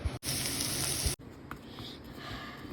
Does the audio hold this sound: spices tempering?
yes